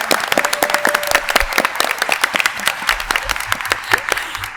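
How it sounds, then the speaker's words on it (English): A room full of people gives a round of clapping, with sharp, distinct claps, moderately loud, and a faint voice underneath. "Can we just give him one round of applause?"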